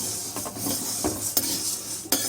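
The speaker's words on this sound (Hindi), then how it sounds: "थोड़ी देर चलाते रहेंगे क्योंकि कढ़ाई गर्म है, नीचे से जल जाएगी।" Spoon scraping and stirring roasted green moong dal in a hot kadhai, with a few scattered metallic clinks and rubbing strokes against the pan, close and moderately loud with no talking.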